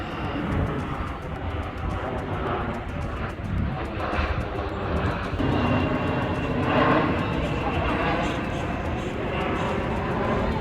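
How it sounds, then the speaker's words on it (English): Aircraft engine roar from airplanes flying overhead in Ashburn, Virginia, a steady broadband rumble swelling slightly and holding loud throughout, with faint outdoor background mixed in. "So yes, the airplane noise,"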